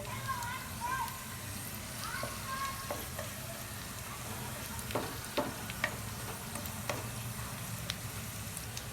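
Cumin and mustard seeds crackle and pop in hot oil, a steady sizzle with scattered sharp snaps, close by, while someone talks over it.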